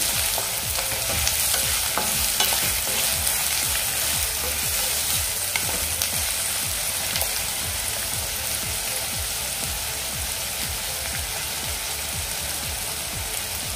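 Onion sautés in a pan over a high flame, giving a loud, constant crackling sizzle like heavy rain, with frequent stirring scrapes running underneath, close and uninterrupted by speech.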